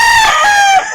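A gamecock stag rooster crows once, loud and close, a single sustained call that drops off at the end.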